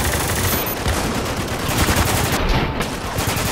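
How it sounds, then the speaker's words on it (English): Dense gunfire in the military shooter Spec Ops The Line, with rapid overlapping shots and automatic bursts forming a loud, continuous barrage from start to finish. "we're taking heavy fire!"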